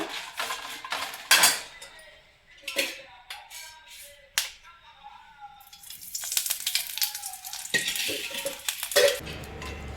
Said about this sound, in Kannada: ಒಣಮೆಣ್ಸಿನ್ಕಾಯಿನ ಕೂಡ ಫ್ರೈ ಮಾಡ್ಕೊಂಡು ಅದನ್ನು ಕೂಡ ನೆನೆ ಹಾಕೋಣ ಇದಕ್ಕೆ ಸ್ವಲ್ಪ ಆಯಿಲನ್ನು ಹಾಕೋಣ